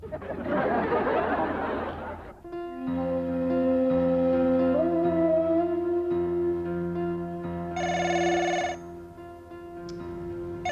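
A telephone rings with a steady electronic tone, preceded by a burst of noise; a brief higher chime sounds near the end.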